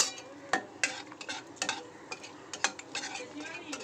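Cardamom pods in hot oil for a tempering, a soft close sizzle under a quick series of sharp spoon or spatula clinks against the pan.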